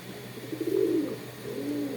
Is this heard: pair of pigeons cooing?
yes